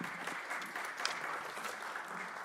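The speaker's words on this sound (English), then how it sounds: "Let's do a collective round of applause for the 10 finalists." Audience at a city council public hearing for a vacant district seat applauds the ten finalists, a steady wash of clapping from a moderate crowd, somewhat distant and even in level.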